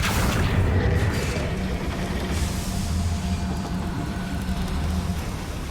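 A Confringo blasting spell explodes in Hogwarts Legacy, a loud booming burst that rolls into a sustained low rumble lasting several seconds, with no voices over it.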